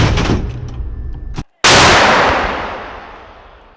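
Artillery fires one powerful, sharp blast nearby, and the boom rolls away in a long fading echo.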